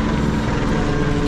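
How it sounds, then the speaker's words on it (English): A loud, constant rotor drone fills the air, a helicopter circling close overhead and thrumming without pause, in Compton, Los Angeles. "You guys hear that helicopter, right?"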